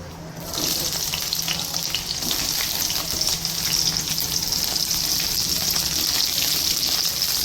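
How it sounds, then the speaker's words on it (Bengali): Cauliflower frying in hot oil in a home kitchen pan, a loud, continuous close-up sizzle that rises sharply at the start and holds steady for several seconds, with no talking. "এখন এরপরে আমি এই ফুলকপিটা ভেজে নেবো"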